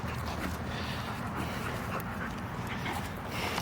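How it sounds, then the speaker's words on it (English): Dogs pant heavily and steadily while playing, a dense, close, continuous rasp of breathing with occasional soft whimpers and scuffling underneath. "That's how dogs play."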